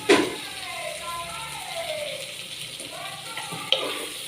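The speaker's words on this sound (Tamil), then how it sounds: "அப்படியே நல்லா வதக்கிட்டு இருக்கணும்" Onions and other ingredients for mutton curry sizzle and hiss as they are sautéed in a clay pot over high heat, with a steady frying crackle and a stirring clink.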